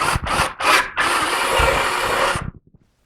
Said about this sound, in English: I'm just going to drill those out and put 3/8 in them